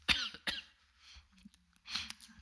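Two sharp coughs close together near the start, then a softer throat sound and another burst of coughing near the end, close and moderately loud with no speech.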